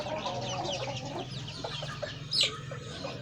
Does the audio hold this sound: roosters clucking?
yes